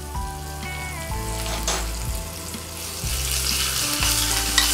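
Green chilies with curry leaves and asafoetida fry in a little oil for tempering, making a soft steady sizzle and crackle under a looping background music track, with no voices.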